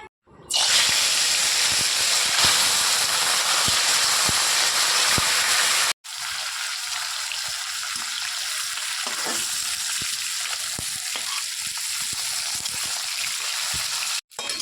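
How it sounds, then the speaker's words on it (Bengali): Steady, loud sizzling of rohu fish pieces coated in salt and turmeric frying in hot oil, a dense crackling hiss that runs continuously with a brief break midway. "এবার মাছগুলো ভেজে নেব।"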